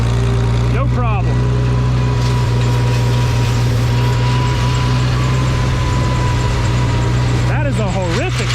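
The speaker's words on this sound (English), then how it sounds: "That is a horrific sound back there. Metal on asphalt." Metal dragging and scraping on asphalt behind a running Farmall 460 tractor, a loud steady engine drone with harsh grinding squeals rising near the start and again near the end.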